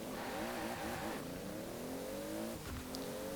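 A 1992 Toyota Supra 2.0 GT twin turbo in Forza Horizon 4 accelerates hard, its engine note rising through the revs, dropping at a gear change, then climbing again, loud and steady with a brief tire squeal.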